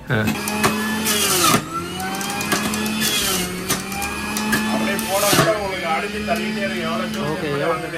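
An electric juicer grinds bitter gourd in a home kitchen, its motor whirring in rising and falling bursts as pieces feed through, with people talking over the running machine.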